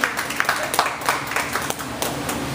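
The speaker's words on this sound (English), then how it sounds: "First of all, a little round of applause." A small audience at a healthy cooking session gives a short, scattered round of applause, with sharp claps overlapping near and mid-distance and holding steady throughout.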